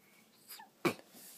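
A single short, sharp sneeze bursts out close by after a soft intake of breath, in a quiet room.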